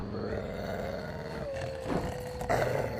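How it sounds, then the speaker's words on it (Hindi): A single dog growls loudly and steadily in a low, rumbling tone, with a sustained tonal hum and a couple of louder swells toward the end. "और कोई तो एक कुत्ता था जो जोर जोर से गुर्रा रहा था।"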